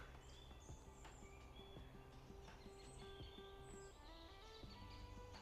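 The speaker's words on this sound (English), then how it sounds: "All the birds waking up." Many birds chirp and call at once in a steady, faint dawn chorus, high tweets and trills layered over soft outdoor ambience.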